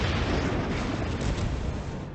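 Battleship main guns firing armor-piercing shells in World of Warships, from the Henri IV, a loud sustained booming roar that fills the whole span without a break and eases slightly at the end.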